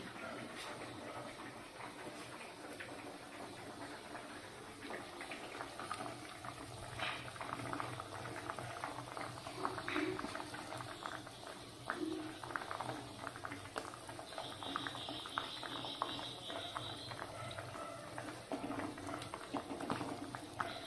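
A pot of potato gravy bubbles steadily at a low, soft level while prawn fritters are dropped in, a faint continuous boiling patter close by.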